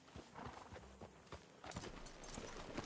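Horse hooves clop in a quick walking rhythm on a ground surface in the Red Dead Redemption II video game, fairly faint and close, with a soft snort or movement mixed in and no talk.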